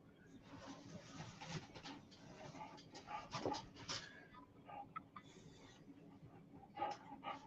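Luna, a pet dog, pants and whimpers softly close by in a quiet room, with uneven breathy puffs and small whines coming in short irregular bursts.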